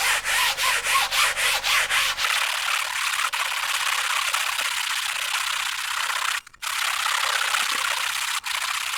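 Hand sanding of a carbon fiber telescope tube produces a close, steady rasping rub, starting with rhythmic back-and-forth strokes and settling into continuous scraping, with a brief pause near the end.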